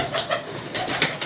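Pigeons coo in soft, repeated throaty calls, close and fairly clear, several overlapping phrases in quick succession.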